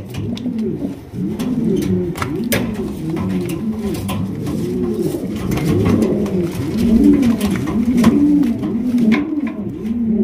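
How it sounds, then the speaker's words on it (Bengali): Several large blue stretcher pigeons coo in overlapping, throaty rolling calls, close and continuous, with faint clicks and rustling in the background. "দর্শক 3000 টাকায় আপনারা পাইতেছেন ব্লু বালেস স্ট্রেচার কবুতর"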